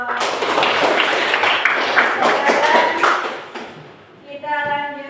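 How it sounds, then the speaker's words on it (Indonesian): A class applauds a student with a burst of dense clapping that lasts a few seconds and then fades, followed by a speaker talking. "tepuk tangan"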